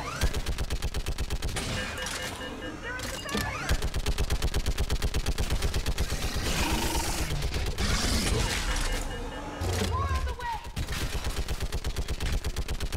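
Sustained heavy automatic gunfire in the Mass Effect 3 video game, a loud, relentless rattling stream of shots with brief pauses, mixed with explosions and combat clatter and shouting voices in between.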